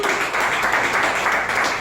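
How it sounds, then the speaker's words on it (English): Steady crowd applause for the organizers of a memorial gathering honoring a friend, continuous broad clapping from many hands throughout, fairly loud and even with no pauses. "a round of applause for Topher and everyone for putting this together"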